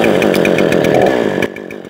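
A Parkside Performance PPBKS 56 A1 petrol chainsaw with electric start runs loud and close at high revs, then drops abruptly toward idle near the end.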